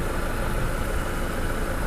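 A Mercedes-Benz E200 Kompressor engine idles quietly, a smooth low steady hum with no revving and no voices.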